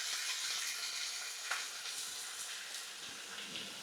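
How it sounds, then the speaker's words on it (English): Seasoned steaks frying in a pan, a steady close sizzle with constant crackle and occasional louder pops. "So I'm just going to let them fry now"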